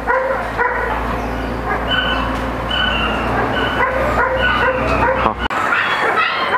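Four black East German Shepherd puppies eat chicken mash mixed with kibble powder, whimpering and yipping in high, overlapping whines over constant close chewing and shuffling.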